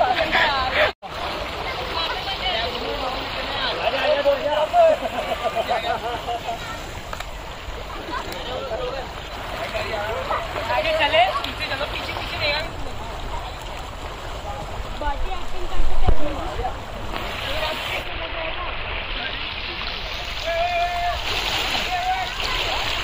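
Feet splashing and paddling in shallow water at Kandeshwar near Kota, Rajasthan, a running stream of small splashes and water movement under nearby chatter and people talking.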